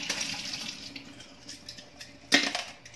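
Water running and splashing while a DIY aquarium for aquatic plants is washed, heard as a continuous close trickle with a sharper splash near the end.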